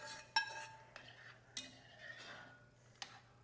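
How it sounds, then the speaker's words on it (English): White china prawns with their juice go into a pan of thick brown sauce, a few sharp clinks and taps of utensils against the pan with soft splashing between, close and fairly quiet, no talking. "We're going to add our prawns along with all the juice from the prawns right to the pan"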